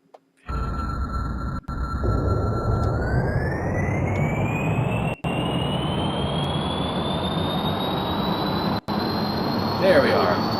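A rocket engine in Kerbal Space Program roars back to life in atmosphere, a loud, steady continuous rush holding through the clip with a rising whine, broken by a few sharp dropouts.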